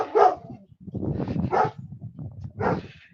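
A dog barks several times close by, sharp separate yelps and barks with whining between them, no talking.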